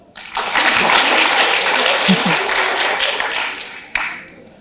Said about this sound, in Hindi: इन्होंने बहुत बढ़िया किया भैया, ताली बजाओ।